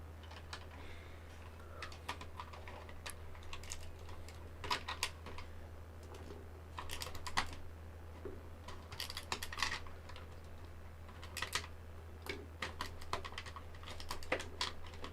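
Keys on a mechanical keyboard with lubed and unlubed switches clack in clustered bursts of rapid typing, quiet and close, over a low steady hum.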